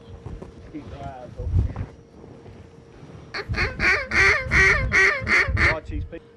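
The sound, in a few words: geese honking, many birds flying over hunters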